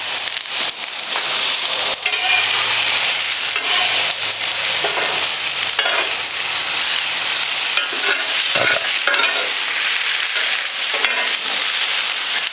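Peppers sizzling on a barbecue grill over an open flame, a loud continuous hiss and crackle close up, with occasional pops and faint tool scrapes and clicks.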